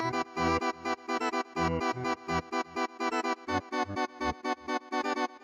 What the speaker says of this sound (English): what you're hearing is literally this one-shot sound playing all of these notes